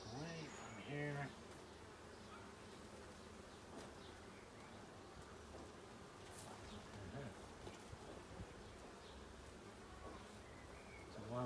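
Bees buzz around an open hive during an inspection, a dense, steady hum with individual insects passing near. It is quiet overall, with occasional faint handling sounds.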